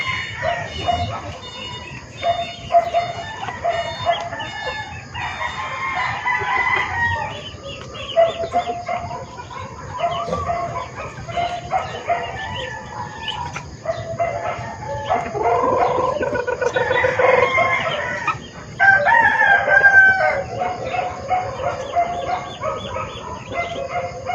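A Black Australorp rooster crows repeatedly among hens, with clucking and other fowl calls close by throughout, set against steady farmyard background noise.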